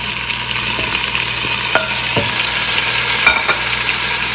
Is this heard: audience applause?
no